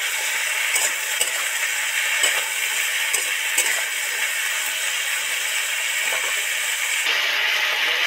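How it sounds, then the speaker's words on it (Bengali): Korai shaak greens and vegetables fry in a pan, making a loud, continuous sizzle and hiss with occasional scraping stirs, close by and with no voices. "সবজিগুলো ভাজা হয়ে গেছে"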